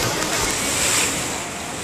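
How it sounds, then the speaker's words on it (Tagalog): Ocean surf and wind along the Ilocos Norte coast near Bantay Abot Cave, heard from a high viewpoint as a steady broad wash of waves with wind noise, continuous and fairly loud throughout. "Yun, yung alon, napakalawak."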